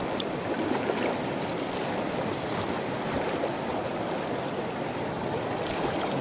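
Fast-moving current of the Panipyason River in Madalag, Aklan rushes steadily nearby, a constant broadband roar with splashing texture and no talking.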